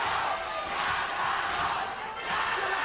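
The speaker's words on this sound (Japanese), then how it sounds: "中野への声援、中野への声援" A packed crowd at Korakuen Hall roars and chants loudly in surging waves of cheering for wrestler Nakano during a 1989 All Japan pro wrestling bout, with no commentary over it.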